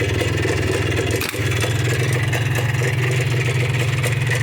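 A 1988 Minsk motorcycle engine runs at a steady idle, its loud, close, even two-stroke putter broken only by a brief dip, with no talking.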